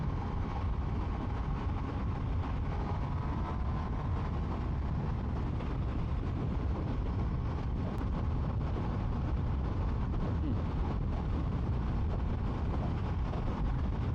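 Constant loud roar of rushing wind and road noise on a Triumph Tiger Sport 800 motorcycle at about 70 mph on a windy two-lane road, a dense unbroken rumble with no voices.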